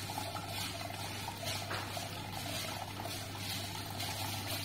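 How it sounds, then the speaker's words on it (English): River water trickles steadily and continuously, close by, gravity-fed through a cooling line to a reflux still's condenser, over a constant low mechanical hum. "That's just gravity feed, and that runs to cool the reflux condenser."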